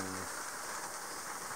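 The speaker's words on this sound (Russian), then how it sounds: "Сегодня целый день практически дождик идет." Steady rain patters and hisses continuously on a yacht, a dense even wash of drops with a low hum fading out at the start.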